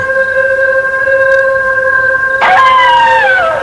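A werewolf's howl rising out of a cemetery at night, a long tonal wail sustained for several seconds before sliding downward in pitch, fairly loud and alone without any voices.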